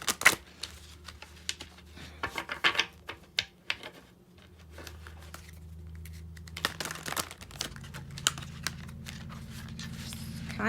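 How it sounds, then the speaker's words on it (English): Tarot cards are shuffled by hand in sharp, irregular bursts of riffling and flicking, with quieter gaps between them and some low sound in the background. "Kind of hard to shuffle."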